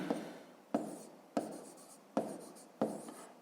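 A pen writes by hand in a notebook during a fifth-grade maths exercise, with four or five short, close scratching strokes in an even rhythm, separated by brief pauses.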